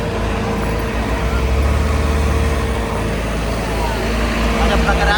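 A vehicle edging through a crowded road, its engine a steady low rumble under continuous traffic noise and surrounding voices.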